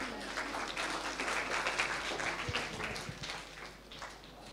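Applause from an audience at a children's naat competition welcomes a young performer, a soft, steady patter of many hands clapping at moderate distance, fading slightly toward the end.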